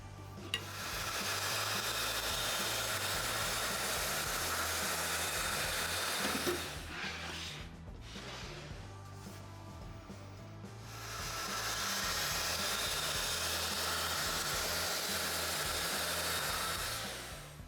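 Power saw cutting a wooden bedside-table top board to width in a workshop: two long steady loud cutting passes with a short quieter break between them, no talking.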